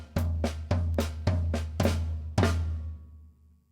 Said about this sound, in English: I'll play the right hand on the floor tom, and then you can hear how the hands split up.